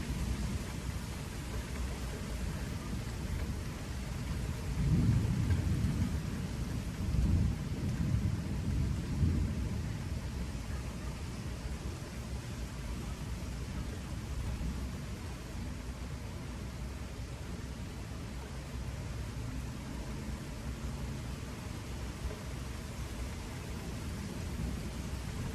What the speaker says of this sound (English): It's coming down, guys.